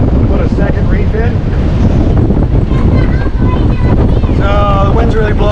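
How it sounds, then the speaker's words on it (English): Strong wind roars across the microphone on a sailboat carrying a double-reefed main, loud and continuous buffeting with water noise beneath, while a voice speaks over it. "So the wind's really blowing."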